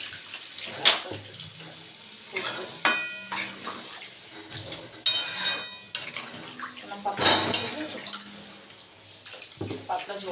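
Water poured into a cooking pot while making a thin curry, sloshing and splashing in several bursts alongside light clinks of pots and utensils, close and moderately loud.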